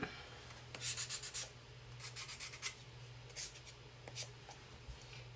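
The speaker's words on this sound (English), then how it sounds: "do I want to sand my edges or not?" Sanding paper card edges by hand: faint, close scratchy rubbing strokes in short bursts with brief pauses between, quiet against a low background hum.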